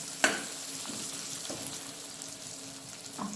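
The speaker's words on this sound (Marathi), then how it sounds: "मस्तपैकी ते तेलामध्ये फ्राय करा हे बघा फ्राय व्हायला पाहिजे" Ginger and garlic fry in hot oil for a vegetable pulao, giving a steady, close sizzle. A sharp clink comes near the start and a few softer clatters follow, with no speech.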